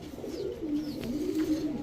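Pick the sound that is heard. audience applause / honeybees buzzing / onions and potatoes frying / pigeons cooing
pigeons cooing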